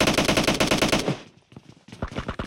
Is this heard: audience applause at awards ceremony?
no